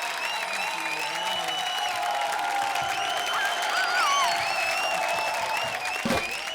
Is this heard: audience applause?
yes